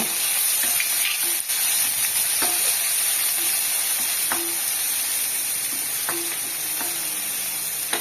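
Chopped ginger sizzles in oil in a pan for Tamil coriander thuvaiyal, a steady close frying hiss throughout with occasional soft clicks of a spoon stirring.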